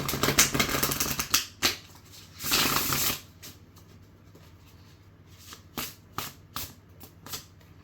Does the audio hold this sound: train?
no